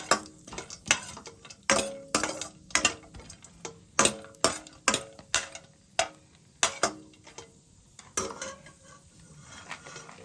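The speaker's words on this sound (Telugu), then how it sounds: "మన దగ్గర ఉన్న జీడిపప్పు 2 స్పూన్లు, పంప్కిన్ సీడ్స్ 2 స్పూన్లు వేసి వేపుకోవాలి" Cashews and pumpkin seeds are stirred as they fry in a pan. A spoon clinks and scrapes against the metal in an irregular run of sharp, close knocks over a faint background, with no voices.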